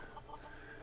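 Chickens cluck in the video game Skyrim, a few soft, short clucks against a low ambient background, faint and slightly distant.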